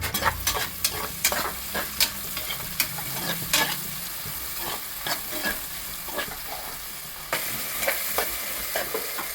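Green chillies and onions fry in oil for a village-style mutton head curry, a constant close sizzle broken by brisk, repeated scraping stir strokes throughout, with no voices.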